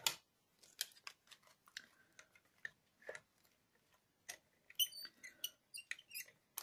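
A manual die cutting machine being cranked as a poly wallet passes through, giving a sparse run of small ticks, clicks and ratcheting creaks at uneven intervals, close and quiet with no talk.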